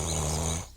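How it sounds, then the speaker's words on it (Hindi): A man snoring, rendered as a cartoon sound in a Hindi comic animation: one short, loud, buzzing snore that cuts off near the end. "अफीमी लाल चैन से पड़ा खर्राटे मारता रहता है"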